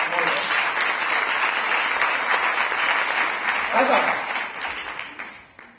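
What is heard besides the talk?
audience applause for the logo designer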